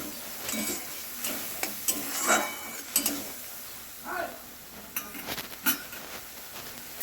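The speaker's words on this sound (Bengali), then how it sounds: "মশলাটি ভালোভাবে ভাজা হয়ে গেছে" Spice paste fries in a pan for a vegetarian pointed gourd curry made without onion or garlic, giving a low sizzle broken by repeated scraping stirs and light clinks of a spoon against the pan.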